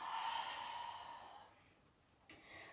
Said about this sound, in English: Fold down, slowly exhale.